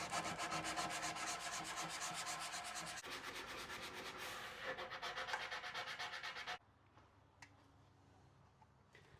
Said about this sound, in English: Sanding these down.